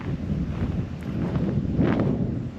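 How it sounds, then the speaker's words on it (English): Gusty wind buffets the microphone on an open grassland hilltop, a low rumbling roar with surging swells, steady and close, no voices. "A little windy up here, but I think it's kind of windy everywhere today"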